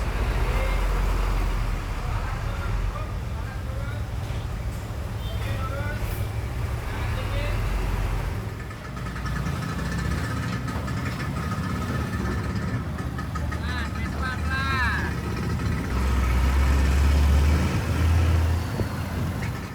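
Engines idle and rumble aboard a busy vehicle ferry arriving at Bali from Java, with vehicle noise, scattered voices and clatter blending into a constant hectic din.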